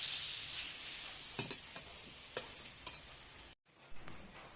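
Taro and spices sizzle in a pan while a spatula scrapes and stirs in a few quick strokes, then a brief pause before the sizzling resumes.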